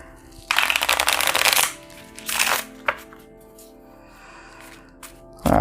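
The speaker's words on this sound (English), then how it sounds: "spur the cycle just basically tells you to shuffle the discard pile back into the deck" A discard pile of playing cards is shuffled back into the deck in two riffling bursts on a tabletop, followed by a few light taps as the cards are squared up.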